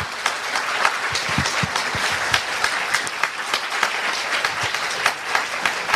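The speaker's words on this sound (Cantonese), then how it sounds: "咁啊俾掌聲大家" An audience breaks into applause, a dense and steady wash of many hands clapping that holds at a loud, even level throughout.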